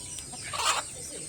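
A farmyard chicken hen gives a brief cluck, a short close call rising over low background noise with no talking.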